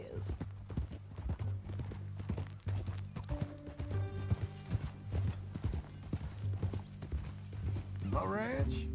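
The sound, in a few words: horse hooves clip-clopping in video game Red Dead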